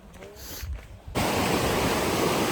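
A broad mountain river near the Nun Kun glacier in the Suru valley rushes with a loud, steady roar that starts abruptly and continues, after a brief quieter stretch of outdoor ambience.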